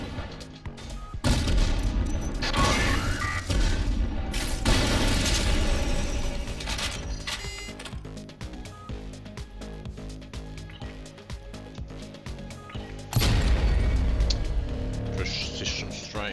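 Weapons fire in the top-down shooter Synthetik 2, with a rocket turret among the sources: bursts of rapid shots and heavy booms hammering in loud waves, and a voice talking over the barrage.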